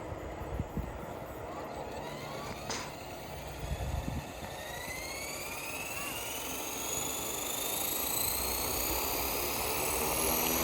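A Blade 230S Smart v2 RC helicopter, just rebuilt with a new head assembly and orange blades, whines up and flies, the rotor and motor pitch rising and sweeping as it climbs, growing steadily louder and nearer with no talk.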